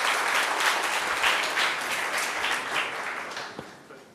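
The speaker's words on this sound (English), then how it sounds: "a big applause to Rich" Sustained audience applause from a crowd at an Agile conference summit, a dense, steady wash of clapping that holds for about four seconds before slowly thinning out.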